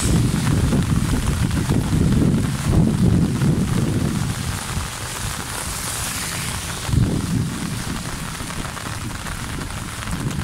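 Strong wind roars and gusts steadily across the microphone, mixed with rain spattering on surfaces during a storm with flooding.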